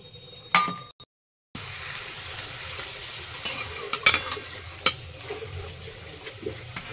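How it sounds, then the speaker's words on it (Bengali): Papad slices frying in hot oil for a home-cooked Shivratri khichuri bhog offering: a steady crackling sizzle with a few sharp clinks, broken early by a brief silent gap. No one speaks. "তেল আমার গরম হয়ে গেছে, পাঁপড়গুলো ভেজে নেব।"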